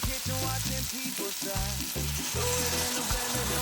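Vinegar splashes into spices already sizzling in a hot pan for a scotch bonnet jerk sauce, giving a loud, close, continuous crackling hiss with repeated scraping stirs.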